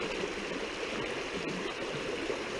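A small public river flows in a steady, continuous rush of babbling water, close and even throughout, with no voices.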